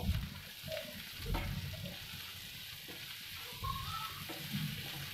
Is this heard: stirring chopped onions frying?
yes